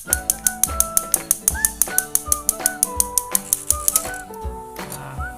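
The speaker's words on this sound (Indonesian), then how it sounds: "itu adalah bunyi pemantik" Rapid, regular sharp clicks from an infrared gas stove igniter tick along for about four seconds over background music, then stop.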